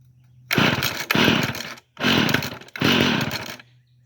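A two-stroke tiller engine catches and fires in loud, rough bursts, sputtering into several surges of running with brief dips between them, close and alone with a low idle hum before and after.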